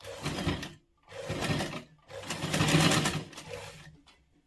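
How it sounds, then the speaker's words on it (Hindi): A sewing machine stitches a fabric frill (jhalar) in three bursts of steady whirring, each about a second long, with short pauses between them, close and moderately loud. "इस किनारे से इस किनारे तक इसको सिल लेंगे"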